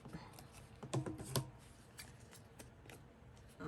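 Paper file card being trimmed with scissors or a cutter during an upcycling craft project, giving a few soft, close snips and rustles at irregular intervals in a quiet room.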